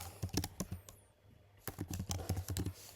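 Close, loud clatter of keystrokes on a computer keyboard in quick irregular bursts, with a brief pause in the middle before a second fast run of typing.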